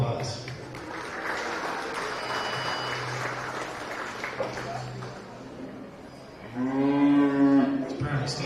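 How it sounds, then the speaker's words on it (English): Crowd applause filling a county fair beef show arena, steady clapping over an announcer's voice, then a cow lets out a loud, drawn-out moo near the end. "Give our intermediate showman a big round of applause."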